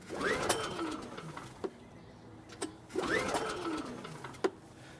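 Two pull-start attempts on a Champion open frame inverter generator with fuel drained from the carburetor lines: each a rising whirring rope pull followed by a sharp knock, spaced a few seconds apart, nearby and fairly quiet.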